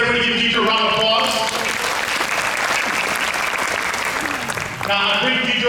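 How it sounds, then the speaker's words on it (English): Loud audience applause for a volunteer named Deidre at a motivational conference in Texas, a sustained roar of clapping filling the middle, with voices heard near the start and end. "Everybody give Deidre a round of applause."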